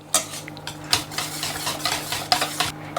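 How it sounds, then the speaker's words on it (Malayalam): Mashed banana is stirred into muffin batter in a bowl, a spoon scraping and clinking against the sides in uneven strokes, close and clear, no voices. "ഇനി നമുക്കിതിലേക്ക് ഉടച്ചു വെച്ചിരിക്കുന്ന നമ്മുടെ ബനാന ചേർക്കാം. അതൊന്ന് മിക്സ് ചെയ്യാം."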